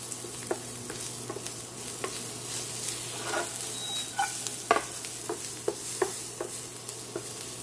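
Meat being lightly stir-fried in a pan for a noodle dish makes a soft, fairly quiet sizzle, with intermittent spatula scrapes and taps in an irregular rhythm, and no voices.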